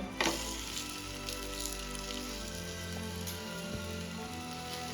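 A paneer cheese paratha frying on an oiled pan after being flipped, producing a steady, crackling sizzle that hisses evenly throughout.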